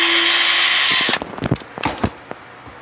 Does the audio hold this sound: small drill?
yes